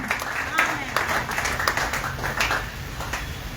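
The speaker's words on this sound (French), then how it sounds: "On acclame très fort pour le Seigneur" A church congregation applauds, producing a dense wash of many hands clapping with irregular sharper claps standing out, and a voice speaking over the applause throughout.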